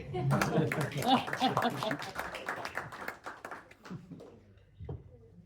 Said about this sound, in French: On peut applaudir Charles.